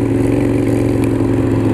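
A motorcycle engine idles steadily with a low, throbbing pulse, close and loud throughout the short stretch, with a faint click partway through.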